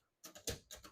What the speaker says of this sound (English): I'm just going to clear each one of them by hitting that CL button